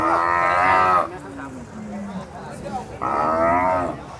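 Water buffalo at a Thai livestock market give two long, loud, close moos with a pause between them, while someone talks quietly in the gap.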